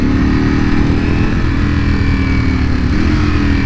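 A 2020 Ducati Panigale V4 R is ridden close by, its engine a loud, continuous drone whose pitch shifts as it slows under hard braking and then picks up again.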